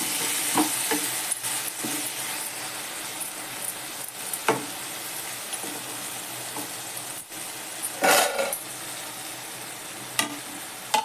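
Onion softening in oil in a covered pan, with a soft continuous sizzle and scattered spoon scrapes and clinks against the pan, close and fairly quiet, with no voices.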